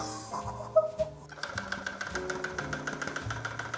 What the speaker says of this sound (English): The tufting gun has adjustable speed and illumination, and its reduced vibration makes it smooth and comfortable to use.